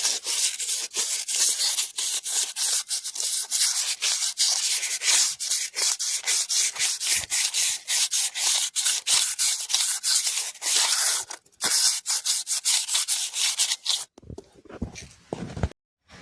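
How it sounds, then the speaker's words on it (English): Coarse sandpaper rubbing a part on an abandoned classic car, a loud, close, rapid series of rasping back-and-forth strokes that runs on steadily before breaking up into a few scattered scrapes at the end. "So I've just cleaned it up with some sandpaper"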